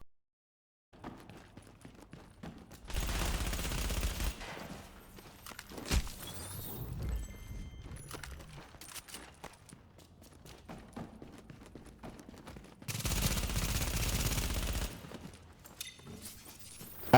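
Submachine gun hip fire in the shooter game The Division: two dense bursts of rapid automatic fire, loud and sustained for a second or two each, separated by quieter in-game ambience and scattered smaller impacts.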